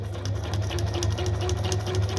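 A sewing machine runs steadily at a constant speed, a loud, even mechanical whir with a fast regular rhythm that continues throughout, with no voices over it.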